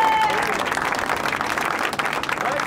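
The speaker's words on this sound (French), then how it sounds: "Bravo à tous ces courageux pilotes, on les applaudit bien fort." A crowd at a motard race applauds loudly and continuously for the riders, the dense clapping mixed with voices and cheering.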